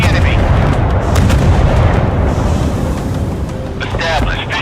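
Missile and artillery fire in a naval warship game, a loud, continuous roar of heavy booms and launch rumble, with a brief whistling tone near the end.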